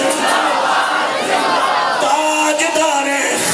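A large crowd at a religious gathering shouts the slogan Tajdar-e-Khatm-e-Nabuwwat in unison, a loud, dense roar of many voices raised together.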